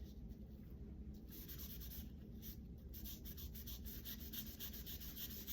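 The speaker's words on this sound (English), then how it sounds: "Another option that you can do is just blend them with a towel." A towel rubs soft pastels into art paper with continuous, faint scratchy strokes in a quick back-and-forth rhythm, close and quiet with no talking.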